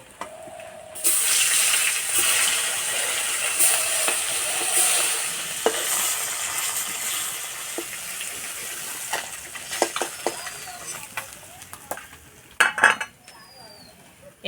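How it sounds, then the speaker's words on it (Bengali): Bata fish frying in hot oil, a continuous loud sizzle with stirring, scraping of a utensil against the pan and occasional clinks, intensifying toward the end. "বাটা মাছগুলো বেশি ভাজবো না, ঠিক এরকম ভাবে ভেজে নিতে হবে।"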